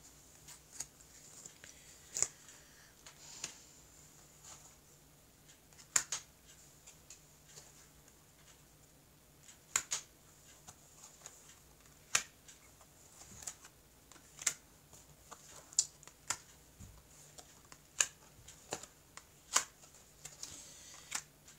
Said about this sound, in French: je vais donc couper et puis recouvrir le jeu